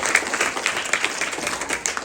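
An audience of schoolchildren claps loudly in a dense, ragged burst of applause that fills the whole moment, close and energetic, without speech.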